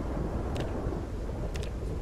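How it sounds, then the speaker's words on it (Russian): Thunderstorm ambience in the video game Project Zomboid: a dense, steady roar of rain and low rumble fills the whole stretch, with a couple of faint higher ticks. "Какая гроза хорошая пошла."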